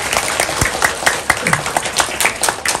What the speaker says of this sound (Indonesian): Tepuk tangan silakan untuk kita semua